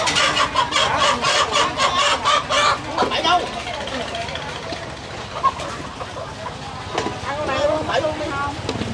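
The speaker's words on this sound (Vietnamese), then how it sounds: "cô chú bán gà vịt ở đây." Chickens and ducks cluck and squawk at a rural Vietnamese market stall in Hau Giang, with repeated close clucking calls under steady background chatter and people talking nearby.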